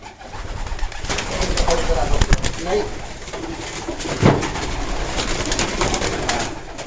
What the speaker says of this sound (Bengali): দেখি এই যে কবুতরটা ধরেছি